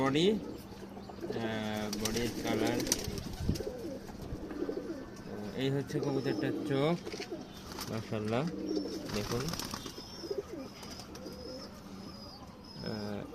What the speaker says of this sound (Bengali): এই যে হচ্ছে নর কবুতরটা